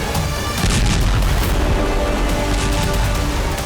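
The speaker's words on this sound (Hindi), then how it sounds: "यूक्रेन ने रूसी सेना के कई ठिकानों पर आस्म हैमर बम से भी" AASM Hammer guided bombs hit Russian army positions, producing loud, continuous booming blasts with a rough rumbling roar that barely lets up.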